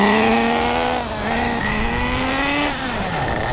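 An HPI Nitro Bullet RC car with a G3.0 nitro engine runs rich, making a loud, buzzy high-pitched whine that wavers and rises slightly but never reaches a high-revving scream. There is no speech.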